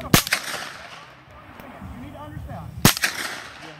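A CZ Scorpion fires full-power supersonic rounds at a range, two sharp cracks about three seconds apart, loud and close with faint background talk between them.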